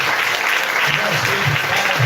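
Applause from a church congregation during an evening sermon, a brief, steady wash of clapping, with voices heard over it.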